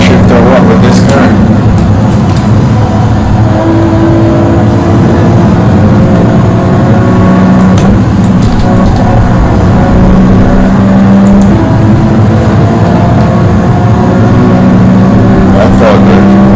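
A race car engine in Gran Turismo 7 drones and revs through upshifts, a steady loud motor tone with rising pitch sweeps and brief gear-change dips over continuous road noise, with a voice talking over it.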